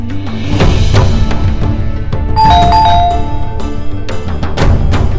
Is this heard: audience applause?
no